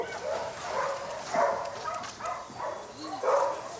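A dog barks and yips several times in a spaced series, sounding moderately close over a faint steady hiss, with no talking.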